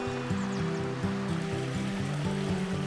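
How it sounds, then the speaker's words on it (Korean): Flowing water in a wide mountain valley stream near Gwacheon, South Korea, rushes steadily beneath a repeating, melodic instrumental tune. "시원한 물소리가 가슴까지 뻥 뚫리게 해주네요."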